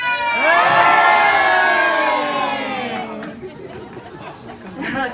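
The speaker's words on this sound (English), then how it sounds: "So Colin's going up, and lots of noise, everybody!" A crowd of children and adults at a sea lion show cheers, whoops and shouts loudly, a dense wall of high excited voices that swells at first, then fades into scattered chatter before rising again.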